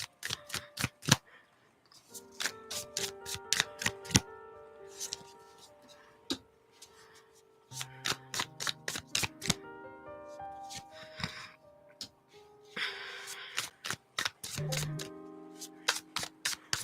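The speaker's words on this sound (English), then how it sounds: "One last shuffle" Tarot cards riffle and flutter in repeated quick bursts, close and crisp, separated by short pauses and breathy exhales, with a faint tonal hum in the background.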